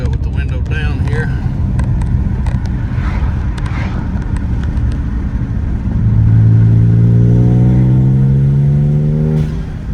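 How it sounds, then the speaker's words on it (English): A turbocharged Honda Civic engine revs with the window down, a rising harmonic whine climbing from about six seconds over steady road and wind rumble, loud and close; a voice talks early on. "You can hear all the turbo noises again, so that's definitely a plus. We'll do it with the window down here."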